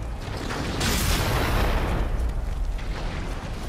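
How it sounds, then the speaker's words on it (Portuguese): A cannon fired in the video game Nioh sets off a loud, sustained explosive boom that swells into a rumbling roar and slowly fades, with no talking over it. "Deixa eu ver se eu consigo atirar com esse canhão aqui."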